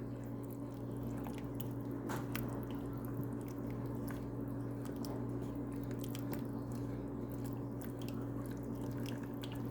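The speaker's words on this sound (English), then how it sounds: "Stir this in." Thick chicken, corn and rice chowder stirred in a pot, giving soft, wet squishing and sloshing that sits low beneath a steady, constant hum, with no talking.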